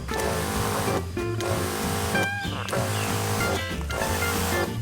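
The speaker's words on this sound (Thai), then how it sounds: "ฟังเสียงปั๊มนะทุกคน" The automatic pump motor of a KAYANA PYB-16L-881 battery-powered sprayer runs loud and close with a steady mechanical whine. It cuts out and restarts in short breaks, and nobody talks.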